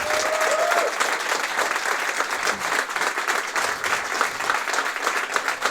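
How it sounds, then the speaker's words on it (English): A crowd applauds steadily at a Spotify hackweek presentation, a dense wash of clapping filling the space, loud and continuous throughout. "Thanks for the big hand of applause to Max Martin."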